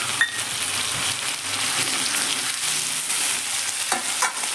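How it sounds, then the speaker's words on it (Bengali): Pumpkin, potatoes and mixed vegetables are stirred and fried in a pan with a little oil. A steady close sizzle mixes with scraping stirring strokes, and no one talks. "কুমড়োর সঙ্গে কিন্তু এটা আমি নেড়ে নিচ্ছি, মানে কষিয়ে নিচ্ছি।"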